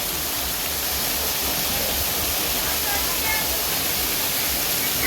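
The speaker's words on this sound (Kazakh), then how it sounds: "Бізде міне осындай сарқырама" A waterfall at Tekturmas sends rushing water in a loud, constant broadband roar that stays even and close throughout, with no pauses.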